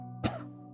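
A single cough into the elbow, demonstrating proper cough etiquette for preventing Covid-19 spread; one short, close burst over a quiet room hum, with no talking.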